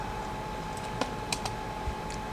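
A computer keyboard is tapped during a basic shortcut demonstration, a few sparse, light clicks over a steady background hum.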